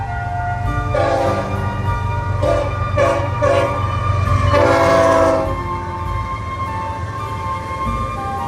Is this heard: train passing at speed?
yes